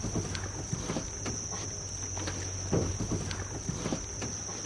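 A rowing boat glides through a quiet lake channel at Paliastomi, oars knocking and water splashing softly in an irregular rhythm, with light wind noise and a steady high insect-like whine in the background.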